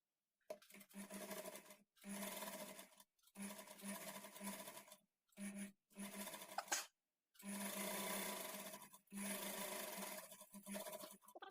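A sewing machine stitches a blouse lining in short bursts, each run of rapid whirring stitches stopping and starting again, close and clear with no talk.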